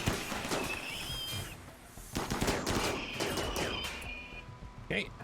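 Gunfire from the video game Rimworld: several bursts of shots with whistling ricochet-like tones, running under background game noise and a talking voice.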